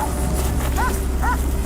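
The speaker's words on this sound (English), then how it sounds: "The dogs barked again, louder and more urgent than usual." Two short, high dog yips or whimpers sound over a loud, constant background rumble.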